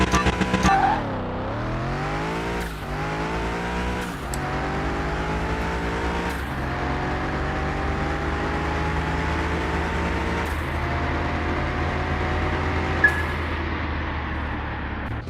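An untuned Mitsubishi Lancer races in Car Mechanic Simulator 2021. Its engine drones loud and close, climbing in pitch and dropping at each of several gear shifts as it accelerates steadily, with no voices.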